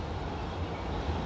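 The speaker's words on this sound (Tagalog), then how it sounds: "Parang tren lang siya." A train rolls past near a footbridge over Kowloon Bay, Hong Kong, heard as a continuous low rumbling wash of wheels and track noise, fairly faint and steady throughout.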